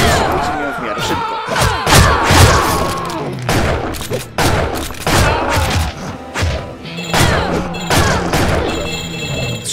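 Gunfire and crashing combat effects from the side-scrolling action video game Shank 2, with loud repeated bursts and impacts packed densely together among shouts and clatter.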